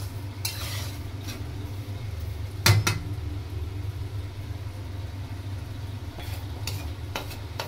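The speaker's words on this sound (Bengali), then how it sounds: "এবার সুজিগুলো একটু লাল লাল হয়ে গেছে, 5 মিনিট ধরে ভেজেছি আমি এখন" Semolina fries in a pan while it is stirred, making a soft continuous sizzle with a low hum and occasional sharp scrapes and clinks of a utensil against the pan.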